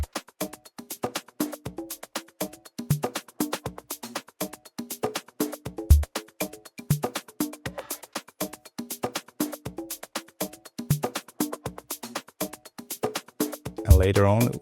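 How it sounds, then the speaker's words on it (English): A steady electronic organic house drum groove loops with punchy kicks and crisp percussive hits in a tight repeating pattern, swelling into a dense burst at the end. "if you want to listen to the drum groove, it's basically sounds like this."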